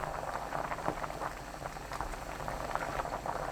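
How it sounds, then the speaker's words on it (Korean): Soup of pork-free gamjatang with green onion and Cheongyang chili bubbling hard on high heat, a steady dense roiling boil with constant popping bubbles, close and continuous with no talk. "센 불로 3분 끓입니다."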